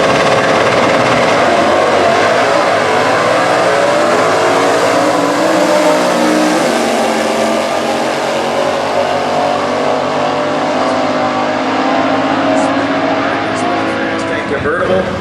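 A 1967 Camaro K-Stock drag car with a 283 and four-speed roars loud and close at a US Nationals Stock Eliminator event, its engine note swelling and shifting throughout, with a commentator's voice running over it.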